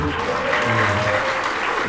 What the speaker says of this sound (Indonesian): Tepuk tangan buat Bang Randy